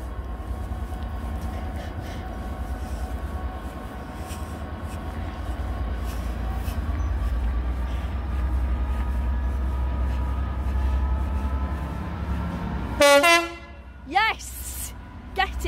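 A train rumbles steadily nearby, then a car horn honks in several loud, sharp toots near the end.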